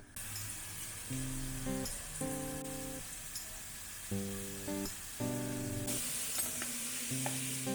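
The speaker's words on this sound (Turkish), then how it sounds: "soğan, sarımsak, biber güzelce sotelendi" Steady, crackling sizzle of onions, garlic and peppers sautéing in a hot pan, continuous throughout, with some tonal sounds in the background.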